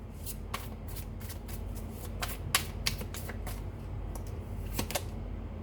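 Tarot cards are shuffled by hand close up, giving a quick run of soft, crisp riffling clicks and flutters at low volume with no voices.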